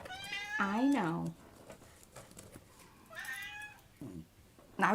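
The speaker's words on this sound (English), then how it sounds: "we got a chatty cat" A talkative house cat meows several times, a drawn-out meow first and then shorter calls, fairly close against a quiet room.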